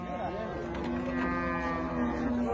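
Cattle lowing at a livestock market where cows and bulls are bought and sold, a long sustained moo rising over a busy, noisy background of crowd chatter.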